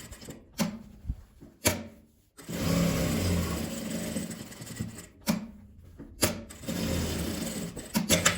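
A sewing machine stitches the sides and bottom of a multi-pocket toiletry pouch in several whirring bursts of varying length, separated by short pauses, close and clear.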